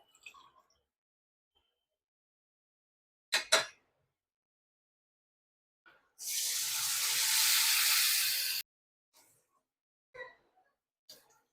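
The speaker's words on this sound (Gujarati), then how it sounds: "હવે કઢાઈમાં આપણે 3 ગ્લાસ પાણી નાખીશું." Water, about three glasses, is poured into a kadhai for Surati lapsi in a single continuous rush lasting a couple of seconds, framed by quiet handling clicks and knocks before and after.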